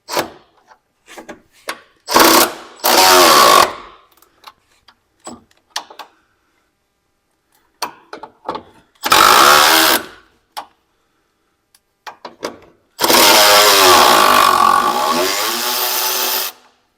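Ratchet working nuts off the ABS box on a Ford E-Series van, heard as three long bursts of rapid clicking separated by gaps, with scattered small knocks and taps of tool on metal in between.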